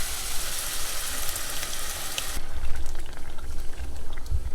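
Crushed tomato pizza sauce simmering in a pot, a dense, steady bubbling hiss up close that grows slightly heavier and lower partway through, with occasional small pops.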